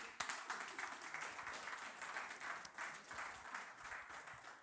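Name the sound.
audience applause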